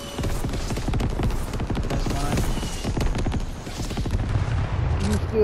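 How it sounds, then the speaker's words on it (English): Rapid bursts of explosions and gunfire from an airstrike in the video game Fortnite during a trios match, dense and continuous across the whole stretch, with a low rumble near the end. "Airstrike coming in."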